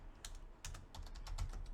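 Keys clack on a computer keyboard while Linux terminal commands are entered, a quick, irregular series of close, moderately quiet taps over a low background hum, with no one speaking.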